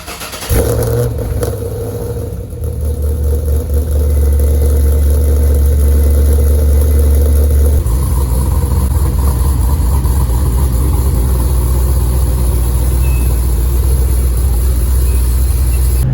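A Pontiac G8 with new suspension parts starts up and drives off, a loud steady engine drone with a deep low rumble that shifts as it pulls away and cruises.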